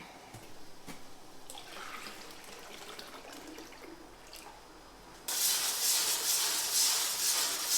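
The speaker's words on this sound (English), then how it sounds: "gotta add some sap out of the syrup pan into that, thin it down, and get it to where I want it" Maple sap poured from the syrup pan into syrup to thin it, a small faint trickle and dripping that swells suddenly into a louder, steadier splashing pour near the end.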